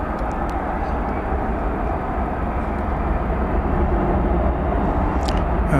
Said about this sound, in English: Flight 2533 coming in from Philadelphia, an Airbus A321.